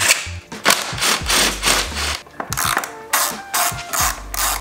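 A ratchet wrench backs out 10 mm bolts from the airbox of a Honda Ruckus scooter, its pawl clicking in quick bursts between pauses, close up with no talk.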